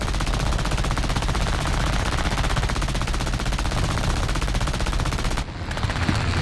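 Rapid, unbroken machine-gun fire from aircraft guns in the War Thunder air arcade battle with an I-15bis biplane, loud and continuous for several seconds before cutting off abruptly near the end.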